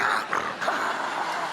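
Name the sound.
dog barking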